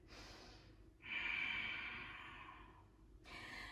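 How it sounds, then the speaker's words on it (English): Slow, deep breathing during a yoga session in a wide-leg ragdoll forward fold, with long airy exhales and inhales close to the listener, alone with no talk. "Breathing deep."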